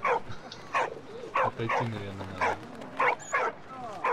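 A dog in the video game Valiant Hearts: The Great War barks and yips repeatedly in short bursts, mixed with and partly under someone talking.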